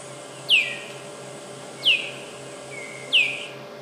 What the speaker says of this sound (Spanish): Un ave. Un ave pequeña. Un pájaro